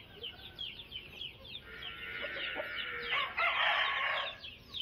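Country chickens and a rooster on a farm, heard faintly from a distance. There is steady clucking and chirping with a harsher crowing burst near the end, against outdoor background noise.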